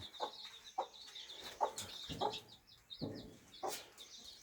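A hen with three-day-old chicks clucks in a steady series of short, soft bursts, roughly one every half second, with faint high peeping of the chicks in the background.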